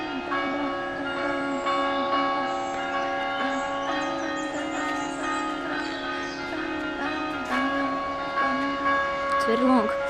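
A church bell rings steadily in São Miguel, Azores, with sustained, overlapping tones, its long resonant hum filling the air throughout, loud and close.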